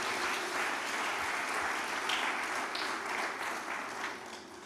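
Steady, fairly distant audience applause at a tourism resilience conference, a dense wash of clapping that holds evenly and then starts to taper off.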